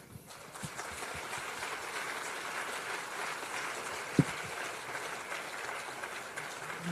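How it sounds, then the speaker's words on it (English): Conference attendees in a hotel main ballroom clap for the Sergeant-at-Arms team, a soft, fairly distant, steady patter of applause with one sharp knock near the middle. "give a big round of applause to our"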